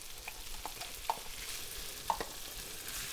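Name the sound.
crab frying in butter in a pan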